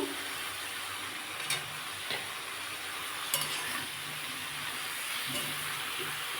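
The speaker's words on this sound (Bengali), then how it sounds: "দিয়ে একটু ভালো করে একটু নাড়িয়ে দিচ্ছি" Fish-head curry with nate greens being stirred in a pan, a steady sizzle and hiss of frying under soft scraping strokes, with a few sharper clinks of the utensil against the pan.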